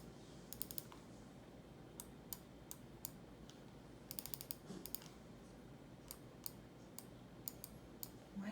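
A computer mouse clicks in sharp, faint, scattered bursts, sometimes singly and sometimes in quick doubles, over a quiet room hum.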